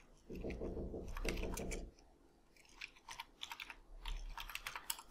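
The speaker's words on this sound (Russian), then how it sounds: "нажимаем комбинацию Ctrl-G на клавиатуре" A computer keyboard gets a run of key presses while working in Photoshop, with bursts of sharp clicks in uneven clusters, fairly close and quiet, separated by a low rumble and brief pauses.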